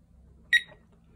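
A single short electronic beep from a Visonic alarm panel keypad after OK is pressed, bright and brief over a quiet room background; no talk.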